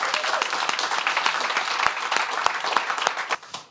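Audience applause for two young readers at a French book event, a lively round of clapping with distinct individual claps popping out near the listener, tapering off at the end.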